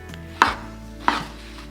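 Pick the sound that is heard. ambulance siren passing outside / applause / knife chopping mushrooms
knife chopping mushrooms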